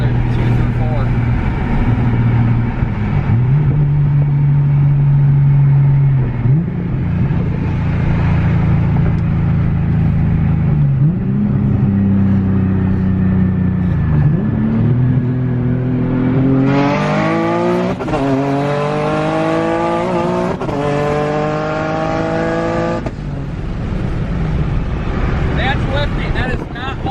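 A modified car engine pulls hard up through second, third and fourth gears, each shift dropping the pitch before it climbs again to a loud, rising wail, close and steady with wind rush.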